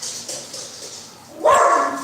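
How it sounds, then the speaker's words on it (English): Dogs bark to be let outside, one sharp nearby bark near the end following a quieter stretch, with no talking. "my dogs want to go outside."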